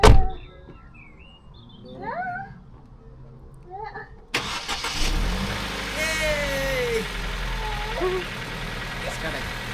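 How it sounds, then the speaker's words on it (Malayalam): A car engine cranks and catches after a door thunk, then settles into a steady idle rumble close by, with people talking over it. "സ്റ്റാർട്ടായി നമ്മുടെ വണ്ടി."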